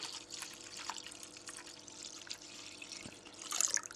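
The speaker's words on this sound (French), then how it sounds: "Donc là, je vais verser le restant du lait." The rest of the milk is poured into a yogurt mixture for making cheese, a close, light splashing and trickling of liquid that swells near the end, with no talk over it.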